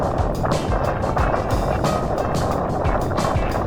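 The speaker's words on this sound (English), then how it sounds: "You can hear the wind blowing in the background." Steady wind rushing across an open mountain landscape in the Rocky Mountains, a constant broadband roar with gusty swells that stays loud and close throughout.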